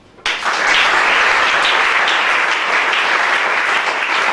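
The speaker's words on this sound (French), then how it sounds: "Acclame Jésus." A church congregation breaks into loud, sustained applause, beginning abruptly after a moment of quiet and continuing as a dense, even roar of clapping.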